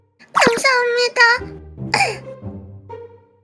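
A child in a school setting, sick with a summer cold, gives a couple of loud, close coughs followed by a voice speaking, the coughs rough and bursting at the start.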